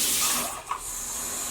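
Half a cup of water pours for crepe batter as a brief, close hissing splash that fades quickly, with no talking.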